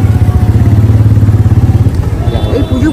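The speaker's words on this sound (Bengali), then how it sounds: "আজকে বাইক নিয়ে বেরোবো" A motorbike engine throbs close and loud in a fast, even pulse while idling or pulling away, then turns rougher and more uneven, with voices talking over it.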